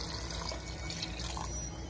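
Two cups of water pour steadily into a pan of shrimp shells, a continuous close liquid rush with light splashing.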